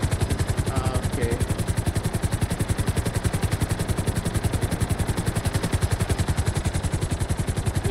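A helicopter flies in GTA Online, its rotor beating in a fast, even chop throughout, fairly close and moderately loud, with no talk over it.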